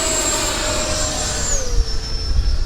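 An FMS Hawk 80mm RC jet flies around overhead, its loud, steady high-pitched ducted-fan whine sliding slightly lower in pitch as it passes over a rushing wind-like roar, with no talk.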